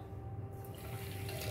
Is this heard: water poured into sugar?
yes